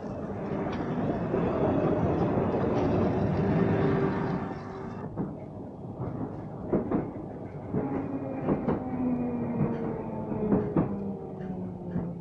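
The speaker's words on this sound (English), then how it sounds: "Braking characteristics, wet rail." A 1960s London Underground Victoria line train rumbles loudly and then slows on wet rail, with drawn-out metallic squealing tones from its brakes over a clattering rhythm.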